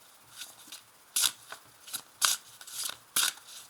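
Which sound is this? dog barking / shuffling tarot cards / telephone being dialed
shuffling tarot cards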